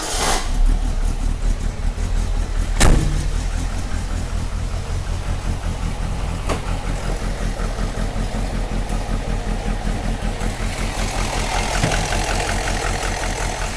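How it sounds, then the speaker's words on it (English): A hopped-up 1963 Alfa Romeo Giulietta T.I. with a 1300 dual overhead cam engine and high-compression pistons idles loudly and close by, a steady, slightly lumpy rumble with a couple of sharp clicks and no voices. "I'll go ahead and fire the car up, and we'll get under the hood. This engine's been hopped up a bit."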